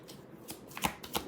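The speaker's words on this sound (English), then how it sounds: "once I start shuffling, I just can't stop shuffling" Tarot cards being shuffled in a few quick, soft riffling bursts, faint and close, with no one talking.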